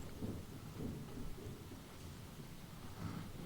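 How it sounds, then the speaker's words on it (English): Hard rain pours steadily in a video game, with low rolling thunder rumbling beneath a continuous wash of rainfall, faint and distant in level throughout. "we're going to get into hard rain, where it blinds you, it confuses you"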